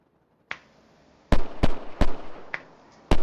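Gunshots ring out in the survival game DayZ, about six sharp, close cracks in an irregular burst, each ending abruptly, with near silence between the first shots.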